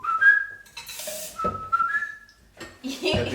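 A person whistling a short, wavering tune indoors, clear and close, in a few separate phrases with brief pauses and some faint background noise between them.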